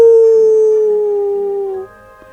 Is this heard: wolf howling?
yes